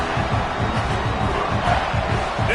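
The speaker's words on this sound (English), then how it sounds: "This crowd trying to make life miserable for this offense." Stadium crowd roars steadily in a college football video game, South Carolina against Florida, a dense continuous wash of noise with faint rhythmic chanting or stomping underneath, loud and close throughout.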